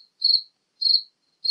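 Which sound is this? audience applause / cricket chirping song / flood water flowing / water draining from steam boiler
cricket chirping song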